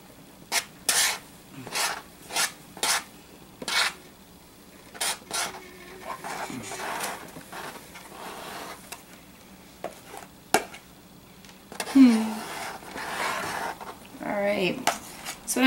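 Whipped cream being spread and smoothed over a green Jello cake, heard as repeated short scraping and tapping strokes of a utensil against a dish, close and fairly clear, with brief voice sounds near the end.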